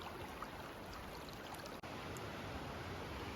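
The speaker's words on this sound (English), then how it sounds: "A lot of water too." Heavy water flowing through Maligne Canyon in the Rockies makes a constant, even rushing noise nearby, with one brief dropout partway through.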